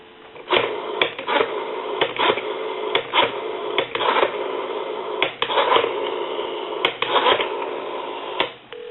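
Rapid bursts of clicking pulses repeat in short groups over a steady hiss as a Western Electric rotary desk telephone dial spins back, with a narrow, telephone-line tone.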